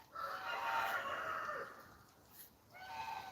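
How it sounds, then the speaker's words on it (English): A rooster crows down the road in a rural neighbourhood where many houses keep chickens, one long drawn-out call followed by a shorter second one, faint and distant. "but I hear a rooster crowing down the road now."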